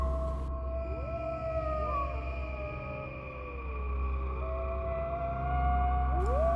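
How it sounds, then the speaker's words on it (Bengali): Jackals howling near a forest at night: several long, wavering howls overlap, sliding up and down in pitch over a steady low rumble, with no voices. "জঙ্গলের পাশ থেকে ভেসে আসছে অনবরত মাংস খেকো শিয়ালের ডাক।"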